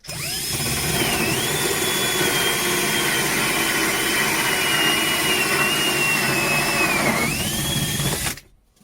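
A power drill bores through a pipe from the second side to free a cylindrical piece for a homemade puddle sucker, a loud steady whine with a shifting high tone running continuously for about eight seconds before stopping abruptly, with no talking.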